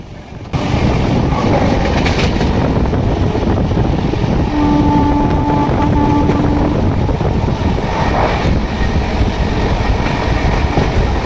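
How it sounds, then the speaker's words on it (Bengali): A local train bound for Bolpur Shantiniketan rumbles past nearby, a continuous loud roar of wheels on rails, with a brief tonal squeal partway through. "ওই যে লোকাল ট্রেনটি যাচ্ছে, ওই ট্রেনটি বোলপুর শান্তিনিকেতনের দিকেই যাচ্ছে।"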